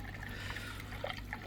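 An aquarium sponge filter moves water in a steady, soft trickle with faint bubbling and dribbling throughout, close and continuous with no voices.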